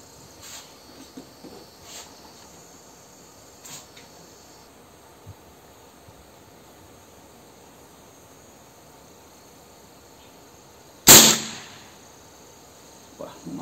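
Air rifle fired with a JSB pellet at a 30-meter target: one sharp, loud shot cracks out after a long quiet stretch, followed by a quick fading tail.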